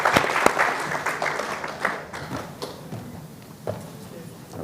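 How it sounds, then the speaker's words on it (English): Applause from a conference audience for a panel of speakers at a rights and justice forum, a dense burst that fades and thins over a few seconds, with sparse individual claps at the end and voices murmuring beneath. "please join me in another round of applause for Ray and Amy and Paul and Jennifer"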